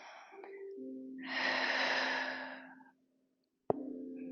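Deep breathing during a spinal strength and flexibility workout: a long, airy breath swells and fades over a couple of seconds, then a brief pause and a sharp click, with a steady low hum underneath.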